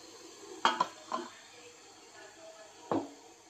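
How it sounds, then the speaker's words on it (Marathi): A metal sieve is set on top of a pot of boiling water in a home kitchen, making a few sharp metallic clinks and a later clank against a quiet background. "आता त्याच्यावर मी चाळण ठेवते."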